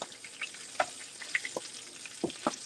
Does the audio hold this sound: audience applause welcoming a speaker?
no